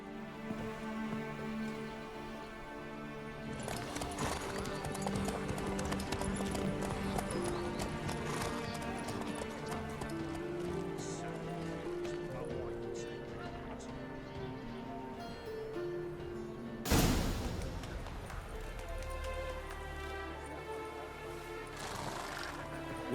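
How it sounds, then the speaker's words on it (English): A horse gallops in The Witcher 3, its hooves clip-clopping in a fast, steady rhythm under a musical score, followed by a sharp, loud thud near the end. "What if I could run, like, race the horse?"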